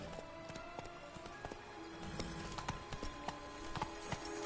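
Geralt's horse Roach gallops in The Witcher 3: Blood and Wine, a steady run of hoofbeat clip-clops over game ambience, with a faint whinny-like tone and no talk.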